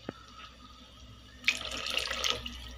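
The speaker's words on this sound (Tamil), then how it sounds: "இந்த மசாலாவில் நம்ம வேணுங்கிற அளவுக்கு தண்ணி ஊற்றிக்கலாம்." Water runs and splashes steadily into a pot of mushroom masala after a quiet start, a close, bright trickling that lasts to the end.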